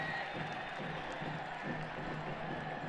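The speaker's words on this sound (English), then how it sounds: "Allie Riley getting a round of applause." A stadium crowd at an NWSL women's soccer match between Angel City and NY/NJ Gotham FC keeps up a broad, steady roar of applause and cheering, distant and continuous.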